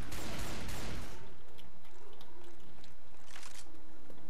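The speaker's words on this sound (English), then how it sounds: "Oh, a real shotgun." A loud shotgun blast in Left 4 Dead 2 opens the moment, with a heavy burst in the first second, followed by quieter scattered clicks and game noises.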